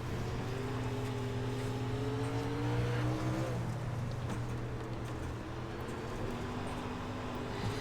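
Dirt sprint car engine in iRacing, a steady moderately quiet drone with rising and falling rev tones, continuous and alone without talk.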